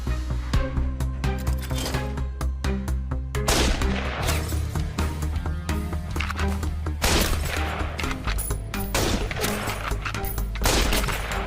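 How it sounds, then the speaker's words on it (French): Rapid rifle shots fired at targets crack out in quick succession, loud and sharp, with dense bursts overlapping and echoing throughout. "Nate Foster, charge ton fusil et en joue."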